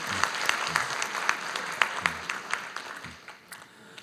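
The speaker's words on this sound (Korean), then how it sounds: "박수 부탁드립니다." Audience applause at a conference opening ceremony, a moderate burst of many hands clapping with sharp individual claps standing out, fading toward the end.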